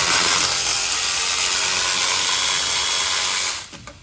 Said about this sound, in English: I'll try to get these rest of these with a little ratchet here.